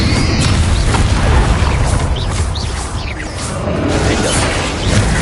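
Confringo blasting curse explosions from the Hogwarts Legacy game, a dense loud barrage of booming blasts and crashing impacts with whooshes, continuous over a heavy low rumble.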